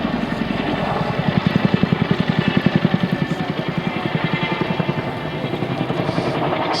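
A military helicopter performs the Gornji climb, a steep turning vertical climb out, its rotor beating in loud, rapid, steady thumps over a broad engine roar. It is close and continuous throughout, with no voices.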